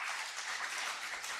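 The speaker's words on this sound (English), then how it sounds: "Please, let's clap for them." Faint, steady clapping from an audience at a judicial installation ceremony, a soft even patter of many hands at a distance for the whole moment.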